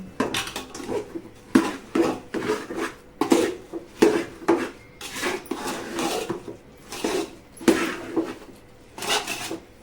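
A spoon scrapes and stirs a thick ladoo mixture of syrup-soaked kali and finely ground vedode in a metal pan, giving a steady run of rhythmic scraping strokes, close and clear, with no talk.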